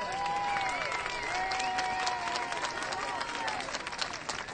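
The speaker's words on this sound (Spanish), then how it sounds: "Un gran aplauso para ellos." Crowd applause and cheering at a street protest for decent pensions in Murcia, a steady dense clatter of clapping mixed with voices and shouts throughout.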